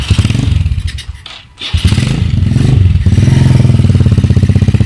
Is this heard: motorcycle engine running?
yes